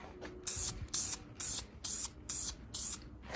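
Brake calipers being sprayed with gloss high-temperature engine enamel in six short, even hissing bursts separated by brief pauses, close by and with no talk.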